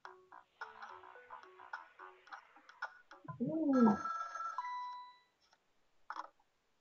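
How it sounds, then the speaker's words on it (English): A telephone in the video game Ghost Trick: Phantom Detective rings and chimes in a quick series of short electronic tones, followed by a swooping sound effect and a held tone, then a brief final blip. "This is a phone call from just the area to the right."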